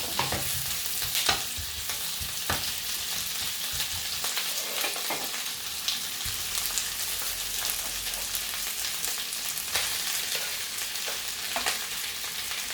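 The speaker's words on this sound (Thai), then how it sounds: "เพื่อนเอาไปทอด" Thai nham fermented pork fries in a pan for fried rice, producing a loud continuous sizzle with repeated stirring scrapes and spatula taps close by.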